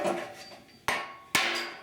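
A hammer strikes a block of wood held against a warped steel panel, two sharp loud knocks about half a second apart, each ringing briefly with a metallic decay, following the tail of an earlier blow.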